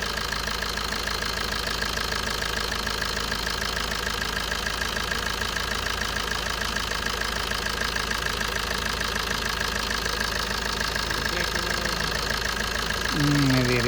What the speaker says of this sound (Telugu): ఇంజిన్ సౌండ్ స్మూత్ అయిపోతా ఉంది